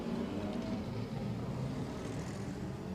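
Lauda Classic race cars at Killarney Raceway pull away on a rolling start, a continuous blended engine roar, moderately distant and steady for the whole stretch.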